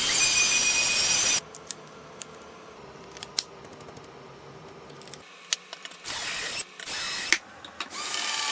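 A power drill whirs in short bursts, drilling pocket holes in plywood, starting and stopping several times, with quieter handling clatter and tapping between runs.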